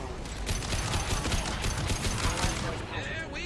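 Dense, rapid gunfire crackles through a Mass Effect 2 firefight, a continuous volley of close shots with mechanical clatter; a voice is briefly heard amid the shooting.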